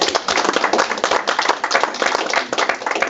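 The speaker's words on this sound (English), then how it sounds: "Let's give them a round of applause." Audience applause for the staff at a housing organization's retirement event, a steady dense wash of many hands clapping that holds evenly throughout without pause.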